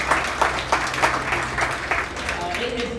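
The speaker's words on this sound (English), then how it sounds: "let's give all 8 kiddos a round of applause for a job well done." Applause for eight young exhibitors at a junior livestock show in La Salle County: a round of clapping from a modest crowd, steady and moderately loud, with a few sharper bursts, over a low hum.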